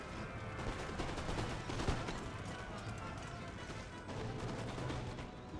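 Massed troops fire their guns in a Napoleonic-era strategy battle against soldiers on a wall, a dense rolling crackle of musket volleys mixed with heavier booms, continuous and moderately distant.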